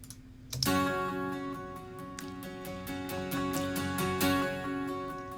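A virtual (software) strummed acoustic guitar crescendo pattern with bright, rhythmic strokes that builds in intensity, sustained chords ringing throughout, no voices.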